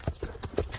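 Horse hooves clip-clop in a quick ambling gait, four or so distinct close thuds in under a second with no talk.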